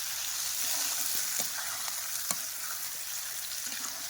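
Onion fries in oil with a soft, even hiss, quiet and steady throughout, with a few faint stirring clicks and no talking.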